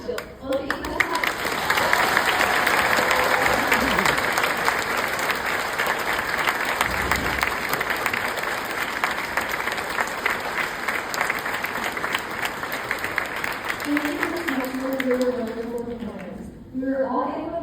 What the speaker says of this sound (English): もう一度大きな拍手をお送りください。